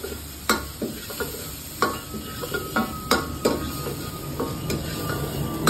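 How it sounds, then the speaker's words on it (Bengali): Garlic and ginger fry in a pan for chicken soup, with a constant sizzle beneath sharp metallic scrapes and knocks of a spoon stirring at irregular intervals, close by. "আদা রসুনটাকে দেখো ফ্রাই করছে"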